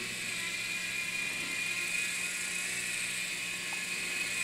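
A small radio-controlled toy helicopter hovers close by with a constant high-pitched motor whine and rotor whir, steady and loud throughout, with no talking.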